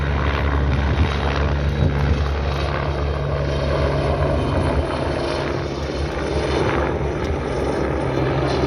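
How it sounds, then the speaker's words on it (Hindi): A helicopter roars loudly and steadily near a helipad at Kedarnath, its rotor chop and engine drone filling the air without pause. "दो हेलीकॉप्टर एक साथ आ रही है"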